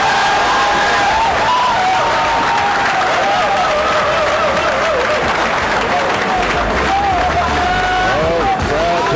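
A Coliseum crowd cheers and applauds after Joven Bustamante beats Wu Chia Ching at 9-ball, a loud, sustained roar of clapping and shouting with a band playing and whistles cutting through.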